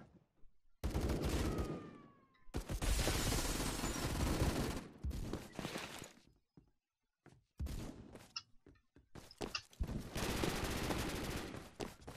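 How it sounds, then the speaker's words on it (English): M41 rifle fire in Roblox Phantom Forces, bursts of rapid automatic shots in several loud stretches separated by short quiet gaps, with no talk. "the M41 is good. Starter gun, decent."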